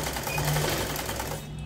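A sewing machine runs a double seam on palazzo pants, giving a brief, steady, close-up mechanical whirr of rapid stitching with no pause.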